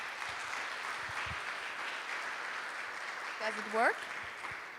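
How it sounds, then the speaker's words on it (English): Steady audience applause at an Open House Europe launch event, a dense even wash of clapping welcoming a speaker to the stage, with a brief voice rising over it near the end. "Please welcome, and again, round applause."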